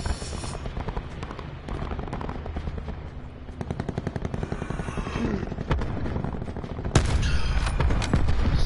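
Rapid automatic gunfire from Call of Duty Black Ops 4 Blackout rattles in dense bursts with scattered single shots, loud and continuous throughout, swelling louder near the end.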